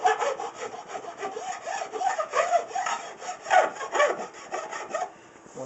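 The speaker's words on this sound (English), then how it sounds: "I just like using just a flat file, and I'll run it down the side of the neck." A flat file is pushed along the edges of a wooden guitar neck in a steady run of rasping back-and-forth strokes, close and fairly loud, with each stroke catching the edge.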